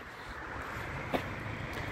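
Wind blowing outdoors by the Ljubljana ring road, a steady broadband rush buffeting the microphone with one brief gust bump midway, no voices.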